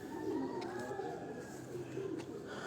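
Black pigeons coo in soft, rolling, repeated calls, heard close and steady with a faint murmur of background noise.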